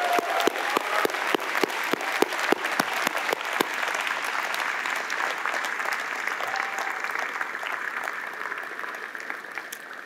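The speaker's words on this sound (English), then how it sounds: "Let's give your families and friends a huge round of applause" Sustained applause from a convocation audience in a hall, steady and fairly loud throughout, with a few sharper claps near the start and the clapping thinning slightly toward the end.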